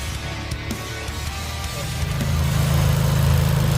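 A Chevy Cruze engine cranks over to prime a newly installed aftermarket turbo, with its ignition coils disconnected and the coolant cap off. The low, steady churn runs close and continuous, growing louder and heavier toward the end.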